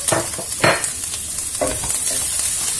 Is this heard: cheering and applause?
no